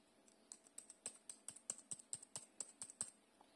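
Typing on a cheap, thin, lightweight plastic keyboard for a Huawei Matepad SE 11 tablet, a steady run of about fifteen crisp, close clacking keystrokes with no talk.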